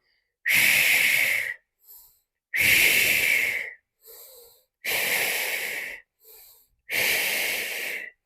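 Four strong, forceful exhalations through the nose during a yoga belly-fat exercise, each lasting about a second, with short quieter inhales between them, close and loud.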